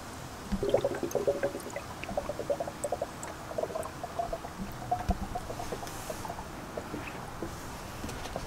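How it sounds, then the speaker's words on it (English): Coolant is poured into the reservoir of a V8 Volvo, a steady faint trickling and gurgling of liquid with small bubbling pops throughout. "we are ready to fill it up with coolant"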